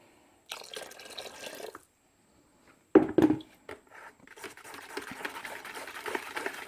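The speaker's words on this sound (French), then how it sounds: "je mélange mon eau pour avoir le plus d'émail possible dans l'eau" Powdered ceramic glaze being stirred into water: irregular sloshing and dripping liquid sounds in short bursts with a silent pause, fairly quiet and close, with no talking.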